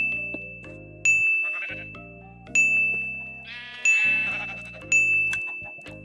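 Minecraft sheep bleating in repeated wavering calls, four or five spaced bursts, with bright chiming game tones ringing over and between them; no voices.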